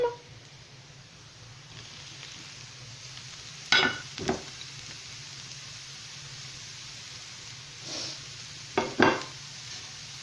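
Carrots with green and yellow bell peppers frying in a pan for chicken bolognese, a soft steady sizzle with a few sharp clinks and scrapes of stirring against the pan.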